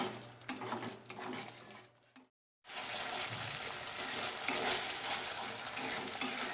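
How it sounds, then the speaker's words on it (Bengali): Masala spices fry in oil in a pan for a malai kofta curry, giving a steady close sizzle with stirring scrapes. The sound cuts out briefly, then returns louder and denser. "ভালো করে মশলাটা নেড়ে যেতে হবে যাতে তলায় না ধরে যায়।"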